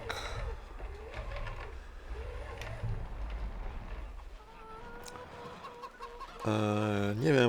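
Chickens cluck in a coop in the Farming Simulator 25 game, a steady cackling chorus up close with a low engine hum beneath, before a louder mechanical whine rises at the end.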